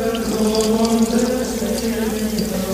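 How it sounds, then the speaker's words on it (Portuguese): Water pouring steadily from a natural spring, a continuous splashing flow with a faint tonal hum beneath it, close and fairly loud throughout. "está a fonte até hoje aí, gerando água"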